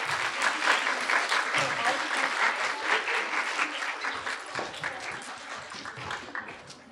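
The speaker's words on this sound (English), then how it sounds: "Give them one more round of applause, please." Audience applause at a school instrumental winter concert, a steady wash of many hands clapping that fills the hall for about seven seconds before tapering off, with some voices mixed in.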